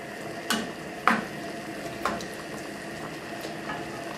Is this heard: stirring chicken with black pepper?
yes